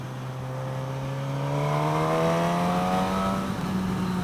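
A 2016 Suzuki GSX-S 1000 ABS motorcycle engine pulls hard while accelerating, its loud, smooth whine climbing steadily in pitch before easing slightly near the end.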